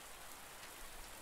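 Rain falls in a tropical open-world survival crafting game, Under A New Sun, as an even, continuous hiss with no voices over it.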